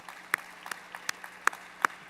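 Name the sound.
audience applause at faculty convocation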